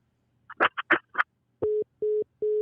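Three evenly spaced beeps of a telephone busy or disconnect tone after a caller hangs up, clear and steady, following a few short bursts of speech.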